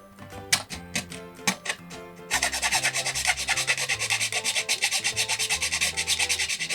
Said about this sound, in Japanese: 平のヤスリで削って、こんな感じに長方形の穴にしたという状態になりました